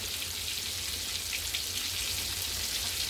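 Fried green tomatoes frying in a pan over medium to high heat, a dense, even hiss of sizzling oil with fine crackles, close and steady throughout, no talking.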